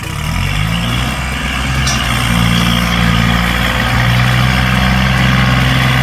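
A 2018 Kubota L4018DT tractor engine idles steadily and loudly close by, with a deep low diesel rumble and a constant drone that holds without change throughout.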